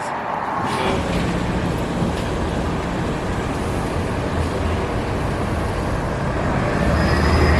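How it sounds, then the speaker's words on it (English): A dense, continuous roar of city bus traffic in Seattle fills the scene, heavy bus engines rumbling past with a steady wash of road noise and no talking. "It's a weekend, and there's so many buses."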